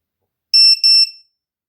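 A short burst of shrill, ear-piercing beeps from a VIFLY Beacon lost-drone buzzer on an Autel Evo drone, two or three quick pulses, loud and alone.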